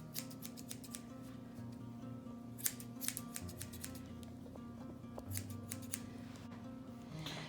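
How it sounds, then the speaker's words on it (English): Small scissors trimming a dog's fur, giving a run of quick, faint metallic snips over a steady low background hum, with no talking. "Trim some out. Take my little scissors again."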